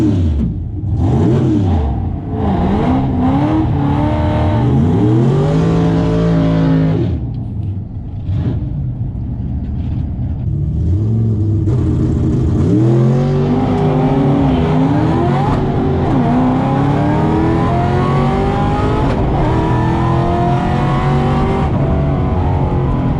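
A cammed Ford Shelby GT500 launches hard off a drag strip line on slicks, its loud engine revving and rising through repeated gear pulls, with a short lull midway before another sustained roar. No speech.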